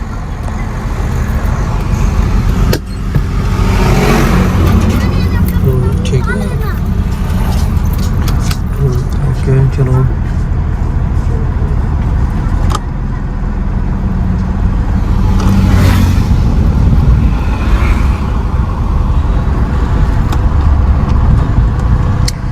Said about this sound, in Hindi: हम स्टार्ट करो गड्डी फिर